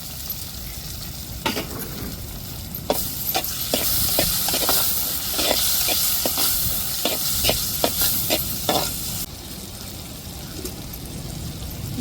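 Tomatoes fry in hot oil for country chicken poriyal, with a loud, continuous sizzle and a run of sharp spoon taps and scrapes against the pan as they are stirred.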